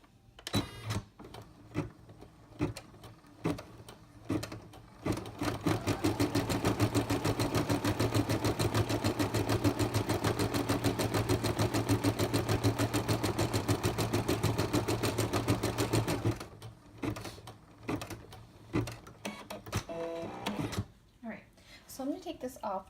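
An embroidery machine stitches a placement line for a felt feltie, running a fast, steady mechanical chatter for about ten seconds, with clicks and handling noises before and after.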